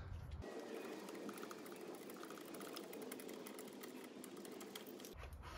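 A ratchet working a bolt loose on a BMW auxiliary belt tensioner, a fast continuous clicking buzz held for several seconds, close but fairly faint.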